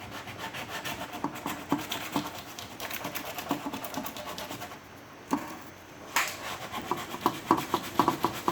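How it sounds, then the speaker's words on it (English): Hand sanding of fairing filler on a Force 5 dinghy mast step repair, with continuous close back-and-forth scratchy rubbing strokes in an uneven rhythm, pausing briefly once before resuming. "so that I can still sand it with some 120, 220,"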